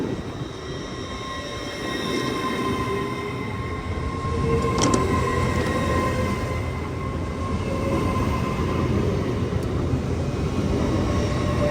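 Train departing Peterborough station on the East Coast Main Line, a continuous rumbling roll of wheels with a faint sustained whine and occasional metallic clicks, steady and moderately near.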